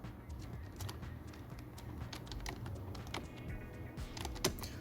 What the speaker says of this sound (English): In my case I'm going to type whiteboard.